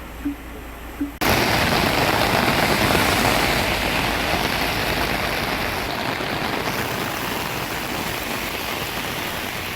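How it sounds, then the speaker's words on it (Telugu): Heavy torrential rain pours down in Hyderabad, starting abruptly after a quiet opening with faint knocks and then holding a loud, steady, dense roar of rainfall. "హైదరాబాద్లో భారీ వర్షాలు కురుస్తున్నాయి"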